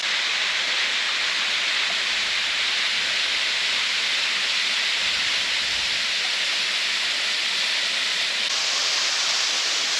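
Taian Waterfall in a forested stream valley, a loud, unbroken rush of falling water that holds a steady roar for the full length without any voices.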